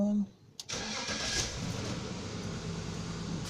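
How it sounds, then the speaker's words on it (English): A car raised up on a lift with an ABS warning light on cranks and starts, its engine catching after a brief click and settling into a steady mid-pitched idle, with talk over it. "Alright, so I turn the car on."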